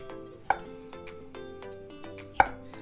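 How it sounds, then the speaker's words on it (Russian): A knife chops olives into rings on a board for homemade pizza, giving a steady run of crisp, close taps with two sharper, louder strikes. "Нарезаем их вот на такие колечки."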